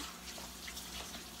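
Water runs from a kitchen tap into the sink in a steady, close, even rush, with no voices over it.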